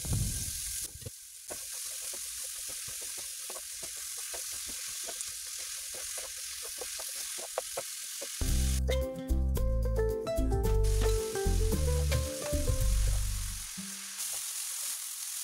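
Diced potatoes and capsicum sizzle steadily in a pan, with scattered stirring scrapes; partway through, loud tonal music swells over the frying for several seconds before fading back to the sizzle alone.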